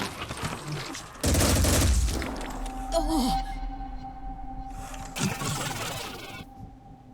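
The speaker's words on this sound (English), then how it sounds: "Pistol fire." Pistol fire in the tactical video game Phoenix Point comes as a few sharp bursts among game effects and tones, while a voice talks over parts of it.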